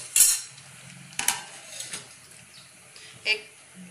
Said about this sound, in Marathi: आपण हलवून घेऊया आणि आता आपण त्याच्यावर झाकण ठेवूया